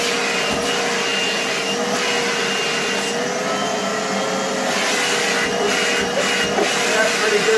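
A Titan vacuum cleaner runs with its hose attached, giving a loud, steady whooshing drone with a faint whine that holds evenly throughout, close by.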